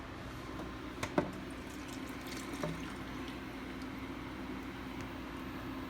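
Tap water runs steadily into a kitchen sink while a hot sauce container is rinsed out, a soft continuous hiss with a couple of small knocks and splashes, fairly quiet and close.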